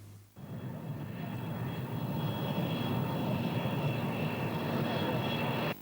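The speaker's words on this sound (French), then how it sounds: "quand l'avion transportant le vice-président ghanéen Arthur Amissa Kwasi Beki atterrit à l'aéroport international Yori Hamani de Niamey" A passenger airplane lands at Yori Hamani international airport in Niamey, carrying a visiting vice-president; a steady, loud jet roar holds throughout, near and unbroken, with no voices.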